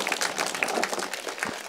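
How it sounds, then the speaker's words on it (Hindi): Brief burst of audience applause at a Buddha vihar gathering in Nagpur, dense steady clapping from a crowd lasting under two seconds with no talk over it. "आप मेरे लिए तालियां बजा सकते हैं"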